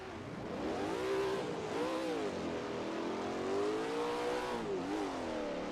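Race cars in Assetto Corsa accelerating off the start on the Black Cat County long circuit, a dense pack of engines whining and climbing in pitch through gear changes, loud and continuous with no talking.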